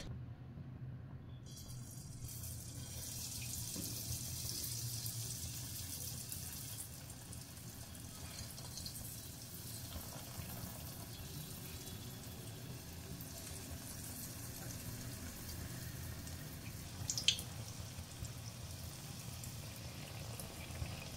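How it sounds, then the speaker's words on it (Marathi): Gulab jamun dough balls frying in hot oil give a steady, even sizzling hiss that continues throughout with no talking. "आता आपण ह्याचे छोटे छोटे गोल तेलामध्ये सोडायचे आहेत।"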